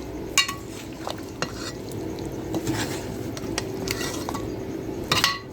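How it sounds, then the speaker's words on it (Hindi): Onion paste roasting in a pot for dhaba-style chicken achar gosht, giving a steady close sizzle broken by sharp clinks and scrapes of a spoon against the metal as it is stirred, with no talking. "अच्छी तरह से प्याज के पेस्ट को भून लेंगे हम।"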